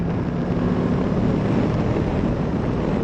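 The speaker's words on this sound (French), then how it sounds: "Là j'ai baissé la bulle et ça se sent, hein. On a tout de suite plus de vent." Steady, loud wind rush buffets a Suzuki V-Strom 1050 XT adventure motorcycle riding with its windscreen lowered, a broadband roar with low engine hum underneath, continuous and unbroken throughout.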